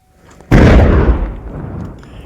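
Recovered hand grenades destroyed in a controlled blast during a search operation among rocks in Samba, Jammu and Kashmir: one loud, close explosion that booms suddenly and then fades into a long rumbling decay.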